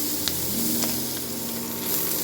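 Onion stalks frying with turmeric in a pan for masoor dal give a steady, close crackling sizzle that runs unbroken, with a few light pops and no voices.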